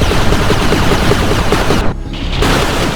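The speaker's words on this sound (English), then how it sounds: "Machine gun engaging" Dense, loud machine gun fire in the real-time strategy game 9-Bit Armies, a continuous rapid rattle of shots that cuts out briefly near the end before resuming.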